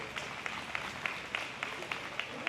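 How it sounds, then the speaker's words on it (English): At a market lamb show, a crowd applauds Wayne Morris with a quiet, distant patter of clapping. Faint rhythmic pops sound under it at regular intervals. "You guys give Wayne Morris a big round of applause."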